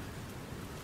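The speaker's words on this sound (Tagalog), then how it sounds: "pag umina ng konti yung ulan" Steady rain falling, a dense, even hiss of drops with no talk, fairly soft and constant throughout the short stretch.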